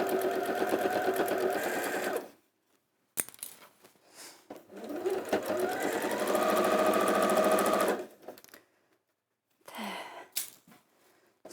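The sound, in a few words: sewing machine top stitching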